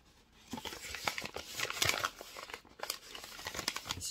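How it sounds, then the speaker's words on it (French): Paper envelope being opened by hand, its glued flap peeled apart in a series of close crinkling, crackling and soft tearing sounds over about four seconds, no voices. "J'ai essayé d'ouvrir l'enveloppe comme il faut."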